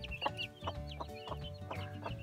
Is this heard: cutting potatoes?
no